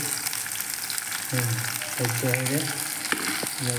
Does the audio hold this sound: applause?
no